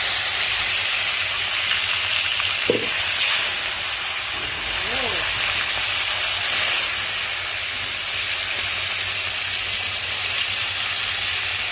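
Marinated chicken dropped into a hot pan gives a steady broadband sizzle and hiss that runs throughout, with a brief clatter near the start and faint background sounds.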